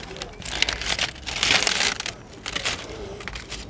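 Paper being crumpled outdoors by the sea on a sunny day in Lovran: a few bursts of crisp crackling and rustling, loudest in the middle, with light background noise.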